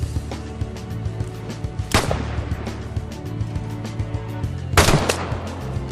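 A Mosin Nagant bolt-action rifle chambered in 7.62x54 fires in the video game Vigor, with two sharp, loud shots spaced a few seconds apart over a busy background of game ambience.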